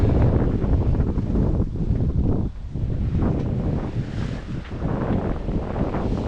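Loud, constant wind buffeting and rushing water around a sailing boat at sea near Shetland, rough and surging throughout with no voices.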